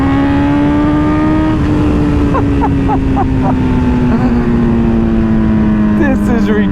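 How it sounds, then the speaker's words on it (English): A loud 2024 BMW M1000R motorcycle engine drones steadily, then the exhaust pops and crackles in short bursts as the throttle eases off. "And then the crackle, dude, it has so much character."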